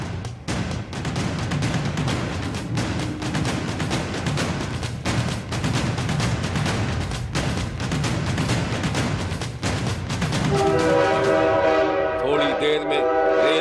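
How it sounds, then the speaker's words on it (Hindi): A passenger train pulls out of a station bound for Karachi, its steady rumble filling the scene before a loud, sustained horn blares over the last few seconds. "थोड़ी देर में रेल छक छक करके अपनी मंजिल की तरफ रवाना हो गई।"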